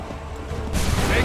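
A volley of muskets fires in Assassin's Creed III, a loud, dense burst of overlapping shots swelling in after a quieter moment and rolling on through the end.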